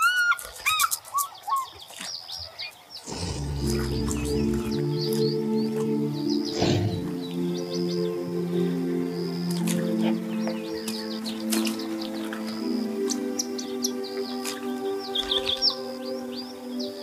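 Wading birds such as egrets, herons and storks in a Rift Valley savannah: scattered chirps and calls, near and far, over a sustained tonal droning chorus that starts a few seconds in.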